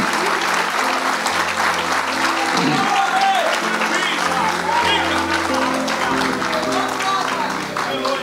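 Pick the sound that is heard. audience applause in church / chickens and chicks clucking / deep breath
audience applause in church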